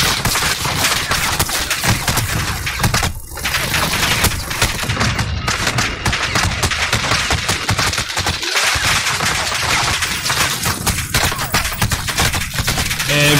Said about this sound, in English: Fuck, everybody's shooting at me.